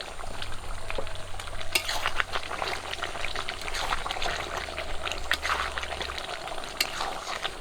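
Chicken with lemon leaves and fried potatoes cooks in a pan, a soft continuous sizzle and bubbling with scattered crackles and occasional clinks, faint and steady with no talking.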